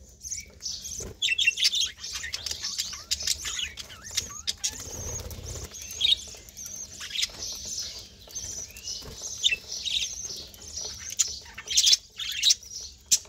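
Several pet birds chirp in short, scattered bursts as they come down from their nesting pots to eat basil leaves, with light tweets and squawks and soft pattering between the calls.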